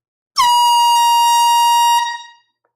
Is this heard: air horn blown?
yes